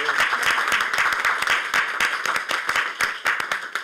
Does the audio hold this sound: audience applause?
yes